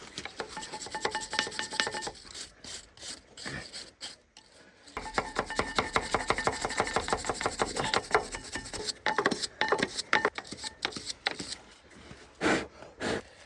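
A brush scrubs a Scania truck brake caliper in a workshop, giving rapid, repeated scratchy strokes up close, fading into quiet gaps and then rubbing back in with brisk, uneven rhythm.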